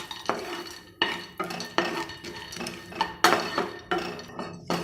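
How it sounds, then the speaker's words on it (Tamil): Cashew nuts roasting in a little ghee in a pan for dry fruit laddu, mostly heard as repeated metallic scrapes and clinks of a spoon stirring against the pan. Each stroke is close and sharp, with only a faint sizzle underneath. "கொஞ்சோண்டு நெய் போட்டுக்கிட்டு முந்திரி பருப்பு வறுத்துப்போம்"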